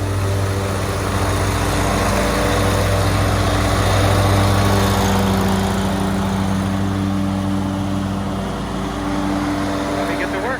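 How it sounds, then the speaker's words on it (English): Lawn mower cutting freshly laid sod, a loud continuous engine drone close by that holds steady throughout. "I'm going to mow that one over there too"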